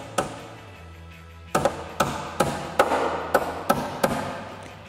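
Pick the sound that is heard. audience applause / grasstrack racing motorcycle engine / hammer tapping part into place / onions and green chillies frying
hammer tapping part into place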